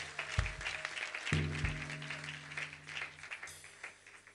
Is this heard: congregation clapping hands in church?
yes